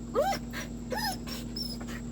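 A young dog named Oliver lets out two thin, high whimpers about a second apart, close by, with softer breathy sounds between them over a steady background hum.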